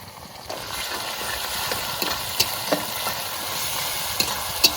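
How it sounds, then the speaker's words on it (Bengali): Ginger garlic paste frying with onions in a village kitchen, an even sizzle with occasional sharp taps of a spatula on the pan, no voices. "এবার আদা রসুন বাটা দিয়ে দেবো"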